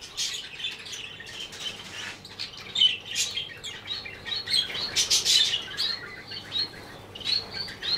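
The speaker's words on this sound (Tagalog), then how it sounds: "Yan yung ibon." Small caged birds kept for sale chirp and tweet continuously, a busy layered chorus of close, bright calls with occasional louder bursts and no talking.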